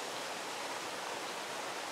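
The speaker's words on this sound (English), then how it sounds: "So I think we're now on the third waterfall as we work our way down Ender's Falls." Enders Falls, a single-plunge waterfall running at low flow during a drought, gives a steady, even rush of falling water, with no voices.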